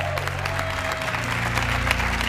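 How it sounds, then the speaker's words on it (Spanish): Studio audience applause for Belloni at a comedy show's farewell tribute, steady dense clapping throughout with a low musical hum underneath. "Perdón, aplauso. Bravo. Fuerte y aplauso."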